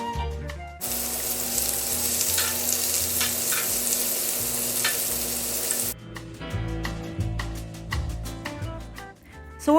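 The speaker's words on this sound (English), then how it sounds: "Then add oil to your grilled pan and start grilling the meat." Thin beef slices sizzling in an oiled grill pan, a dense, steady frying hiss broken by brief clinks and kitchen noises near the start and end.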